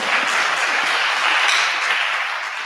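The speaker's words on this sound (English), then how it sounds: "A round of applause for her" Audience at a mentorship event giving a student a round of applause: dense, loud, continuous clapping with no pauses, carrying on evenly to the end.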